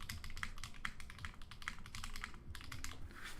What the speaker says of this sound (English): I really like how this new keyboard sounds.